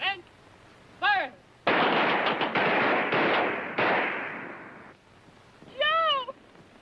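Rifle gunfire rings out on a firing range in a 1953 film, a loud sustained volley of overlapping shots, framed by shouted commands before and after.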